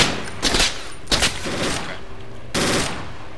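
Bursts of automatic gunfire in the military shooter Project Reality, Muttrah City map, with three loud, dense volleys separated by brief gaps, fired close by.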